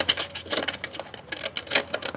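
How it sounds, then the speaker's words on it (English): Scissors trim paper for a layered card, a run of soft, quick snipping and rustling cuts close to the mic. "I'm going to take my scissors and trim"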